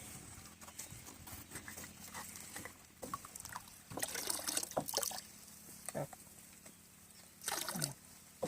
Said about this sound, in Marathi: टाका अर्धी अर्धी बॉटल।